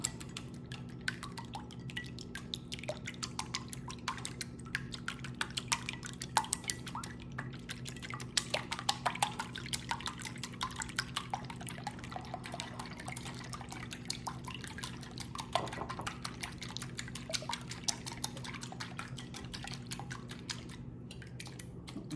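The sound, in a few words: adding milk to eggs and stirring in a bowl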